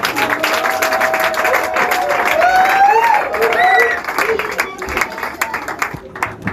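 A church congregation claps and cheers together in a sustained burst of applause, loud and close, with voices calling out and a sung or shouted voice rising above the crowd.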